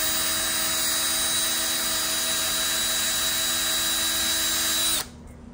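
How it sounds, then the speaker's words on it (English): A small power drill bit whines steadily and loudly, drilling screw holes for a Sea Doo jet pump wear ring, then cuts off abruptly near the end, leaving quiet room tone. "I'm just going to drill that through."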